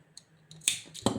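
Close scissors snip crochet thread on a gingerbread man appliqué, a few sharp metallic clicks building to two firm cuts in a quiet setting.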